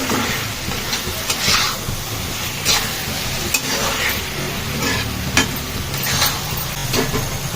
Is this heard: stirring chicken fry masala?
yes